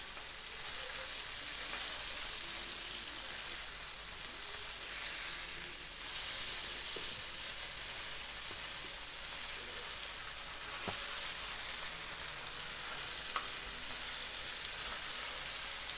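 Oil sizzles in a constant, close hiss as khoira fish fries, with occasional faint clinks and spatters over the steady sputter.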